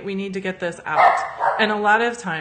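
A pet dog barks and yips in a home, sharp calls breaking in repeatedly under a woman's steady speech.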